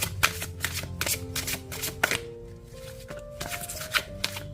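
A deck of cards being shuffled, several quick riffle bursts in a row with soft flutters between them, close and steady under a faint background tone, with no voices.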